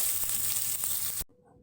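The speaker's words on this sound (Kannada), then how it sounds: "ಇವಾಗ ಒಗ್ಗರಣೆಯಲ್ಲೇ ಚೆನ್ನಾಗಿ ಈರುಳ್ಳಿ, ಬೆಳ್ಳುಳ್ಳಿ, ಮೆಣಸಿನ್ಕಾಯಿ ಮತ್ತು ಕರಿಬೇವಿನ ಸೊಪ್ಪೆಲ್ಲ ಚೆನ್ನಾಗಿ ಫ್ರೈ ಮಾಡ್ಕೋತಾ ಇದ್ದೀನಿ" Onion, garlic, green chilli and curry leaves frying in hot oil tempering for bitter gourd curry: a steady, close sizzle that cuts off abruptly after about a second, leaving near silence.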